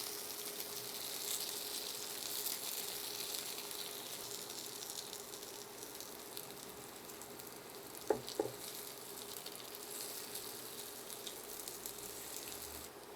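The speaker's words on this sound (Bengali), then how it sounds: "আলুটা এক পাশ একটু ভেজে নিয়েছি," Potatoes frying in a pan for a potato and egg snack, a faint, steady sizzle throughout with a couple of brief clinks midway and no talking.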